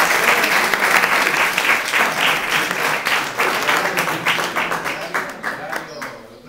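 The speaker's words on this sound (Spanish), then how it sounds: "Un fuerte aplauso para él." An audience at a municipal gathering gives a speaker a loud burst of clapping that runs several seconds and gradually thins out toward the end.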